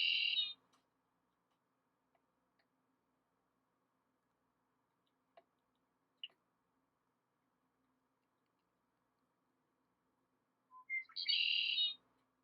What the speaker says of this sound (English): so we've got a bird